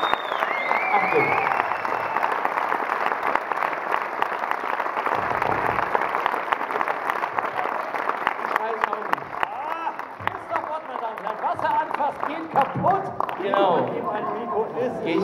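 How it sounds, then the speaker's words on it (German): Audience at the Zoo Palast cinema in Berlin applauding at a Stromberg film premiere event, sustained clapping with cheers and voices mixed in throughout. "Deshalb ein langer Applaus wäre wunderbar."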